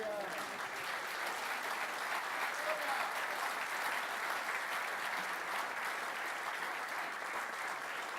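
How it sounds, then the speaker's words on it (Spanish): A church congregation claps together in sustained, even applause that fills the space at moderate loudness and continues steadily without pause. "Dale un aplauso al Señor"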